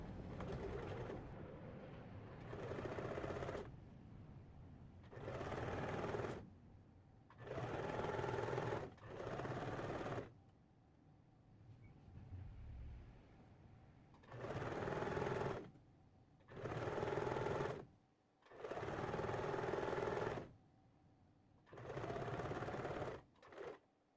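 A sewing machine stitches the side and inner leg seams of a pair of pants in a series of loud, close, whirring bursts of a few seconds each, separated by quiet pauses.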